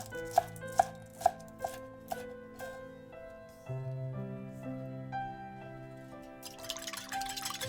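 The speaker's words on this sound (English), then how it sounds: "Finally chop a small bunch" A small bunch of green onions being chopped, a few crisp knife taps on a board near the start, faint and close, over quiet background music.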